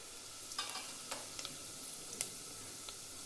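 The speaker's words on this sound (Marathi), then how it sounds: "तेल गरम झाले, मोहरी टाकायची." Mustard seeds and cumin sizzle in hot oil with a soft, continuous hiss and a few faint pops and crackles at irregular moments, quiet and close.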